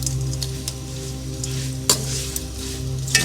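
Ikan bilis (dried anchovies) frying lightly in a pan give a steady, close sizzle with a few sharp pops and crackles scattered through, with no voices over it.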